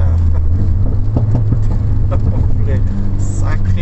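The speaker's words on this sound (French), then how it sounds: "Ça crépite, ça fait des bam bam bam de partout" A Renault Mégane 3 RS Trophy, a full-tube build on a cup chassis, idles with a low rumble as its exhaust crackles and pops in scattered bursts, with someone talking over it.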